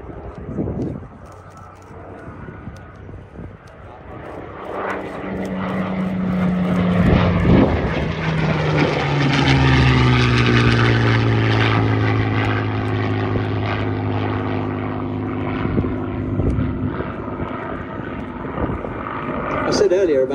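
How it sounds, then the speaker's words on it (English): A Spitfire warplane flying a display at an airshow, its propeller engine roar swelling and sweeping past with a falling pitch, while a commentator talks over it. "this very aircraft you're watching display now"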